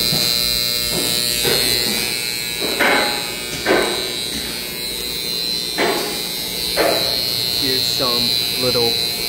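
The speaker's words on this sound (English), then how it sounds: "That one has a bad contactor." A faulty contactor in a Kone MX18 traction elevator machine room gives a harsh continuous electrical buzz with a steady hum underneath, loud and close, while a person talks intermittently over it.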